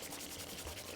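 Dried coriander and kasuri methi rubbed and crushed between the palms, a dense, steady dry rustle filling the whole moment, close and fairly soft.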